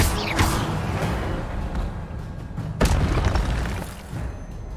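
An ancient magic spell in Hogwarts Legacy bursts with a heavy boom and whooshing blast, followed by a lingering rumble and a second sharp impact midway, set over dense game background noise.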